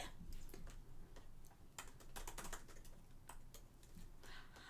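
Steady, quick clicking of computer keyboard keys up close and fairly soft, a continuous run of tapping with brief pauses and no talking.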